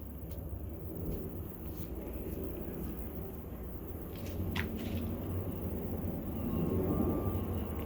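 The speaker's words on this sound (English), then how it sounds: "I hear a plane." An airplane passes overhead as a low, distant rumbling drone that slowly swells louder toward the end, with faint scattered outdoor noises on top.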